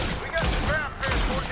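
Raygun MK2 variant fired slowly in a video game, two sharp energy shots about half a second apart, under someone talking.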